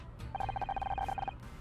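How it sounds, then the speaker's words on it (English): A phone rings in the detective puzzle video game Murder by Numbers, a rapid trilling electronic telephone bell lasting about a second, clear and close. "One sec, I think that's my phone."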